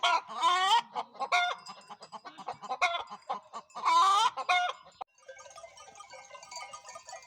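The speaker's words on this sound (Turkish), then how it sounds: "Arkadaşlar tavuklar sıra bekliyor yumurtlama için." Hens waiting to lay eggs cluck and cackle repeatedly in bursts, close and fairly loud, followed by a softer, busier chorus of clucking from several birds.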